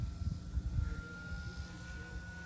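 A BlitzRCWorks Cessna 182 RC trainer plane flies overhead in light wind, its electric motor a steady high whine with an even drone, gusts of wind rumble at the start.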